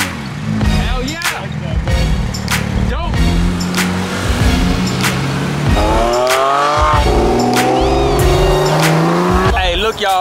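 Porsche sports cars rev hard and loud at close range, with strong engine tones and squealing tires sweeping up and down through the middle and end; people talk over the noise.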